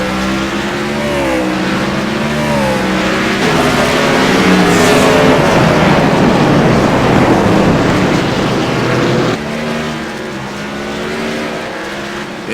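Race cars lapping Sonoma Raceway during a Wounded Warrior Cup Series race, engines roaring loud and steady with rising and falling revs as cars pass, a brief tire squeal, continuous throughout.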